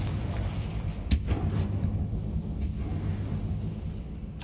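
Confringo fire spell explosions in Hogwarts Legacy, a loud sharp blast near the start and a second fainter crack later, over a steady low rumbling game ambience with no talk.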